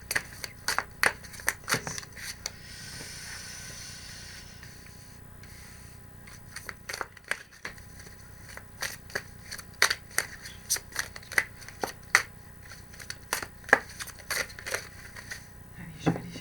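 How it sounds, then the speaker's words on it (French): Tarot cards slap down and are shuffled by hand in a series of sharp, close papery flicks and taps, with a brief softer riffling stretch between them, and no voice. "les cartes qui tombent, elles veulent parler"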